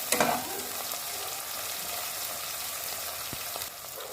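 Onion, tomato and green chillies fry in a pan with a steady, close sizzle, a brief louder burst near the start where ingredients hit the oil, then continuous crackling hiss throughout.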